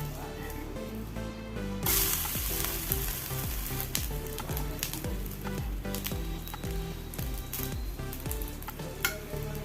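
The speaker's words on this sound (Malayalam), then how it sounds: "നല്ല സൂപ്പർ ദോശയാണ് നമുക്ക് മറിച്ചിട്ട് കൊടുക്കാം" Thin Kerala-style raw rice dosa sizzling steadily on a hot oiled pan after being flipped, a loud continuous frying hiss with light scraping, heard alone without talk.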